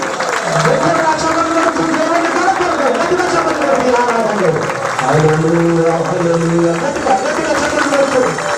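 A congregation at a Telugu Christian worship service claps along during singing, steady dense clapping under a prominent singing voice.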